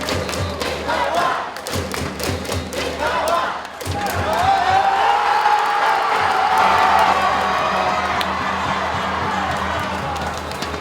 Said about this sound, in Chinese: 全场球迷热情欢呼，欢喜庆祝台湾再次摕到冠军的荣耀